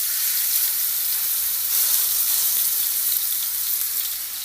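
A steak sizzles loudly and steadily in a smoking-hot pan with a touch of oil, a continuous bright hiss and crackle with no talking.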